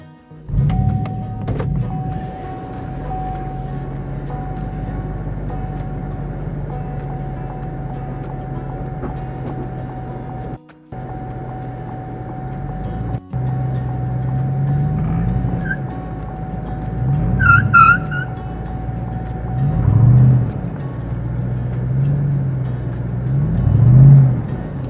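A vehicle strains while moving a boat trailer, its engine droning steadily with repeated rising surges as the wheels spin in dirt. Rumbling and whirring continue close by for about 25 seconds.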